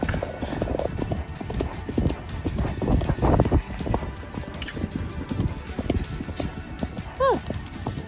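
A horse bursting into a run from a standstill while ridden bareback, hooves clip-clopping in a quick, uneven rhythm close by, with a rider talking over them and a brief squeaky sound near the end.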